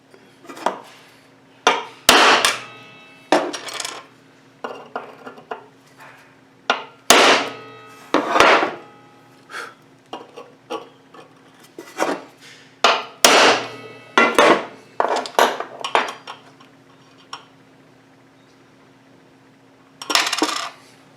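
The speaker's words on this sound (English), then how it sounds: "I used a hammer and a punch here to make sure and get that a good start" Sharp metallic hammer strikes on a punch against metal ring out in irregular bursts while making a carbide cutter wood lathe tool, some single taps and some quick runs of blows, close and loud with pauses between.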